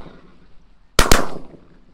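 Two shotgun blasts in quick succession at geese on a hunt, loud and sharp with a short fading tail, after quiet outdoor background.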